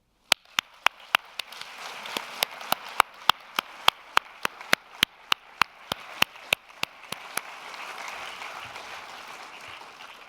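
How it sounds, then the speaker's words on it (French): An audience at the FIFF 2025 awards ceremony in Fribourg claps in steady, rhythmic unison, sharp regular beats landing over a continuous wash of applause that carries on for about ten seconds. "Merci de les applaudir avec moi."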